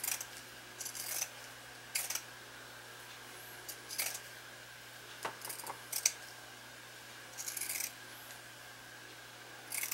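Scissors snipping through fabric for pajama bottoms, with short bursts of close cutting separated by quiet pauses under a steady low hum.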